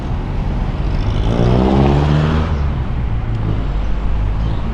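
Steady road traffic din heard from a Yamaha Fazzio scooter on a daily work commute, a loud continuous engine rumble with a rising rev swelling near the middle and easing off, no talk.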